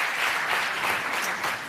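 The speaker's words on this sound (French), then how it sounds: "vous pouvez les applaudir tous les 6" Audience applause at an opening plenary session of a business-financing event, a steady, dense wash of clapping from a crowd that holds level throughout and eases slightly at the end.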